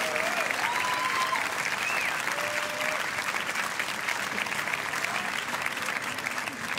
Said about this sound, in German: Euer Applaus.